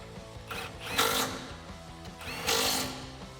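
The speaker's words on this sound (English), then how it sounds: "grab a 10mm socket and tighten it down with your impact gun or your ratchet" Impact gun with a 10mm socket tightening nuts on a Borla ATAK exhaust muffler assembly for a 2017-2019 Ford F150 Raptor, giving two short rattling bursts about 1.5 seconds apart over a low steady hum, fairly faint.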